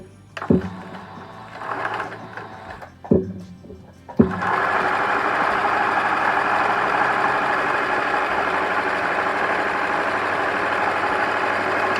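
A sewing machine stitches a quarter-inch seam across a stretchy fabric mitten and cuff. A few handling thumps and short bursts come first, then a steady, close, continuous motor whir runs to the end.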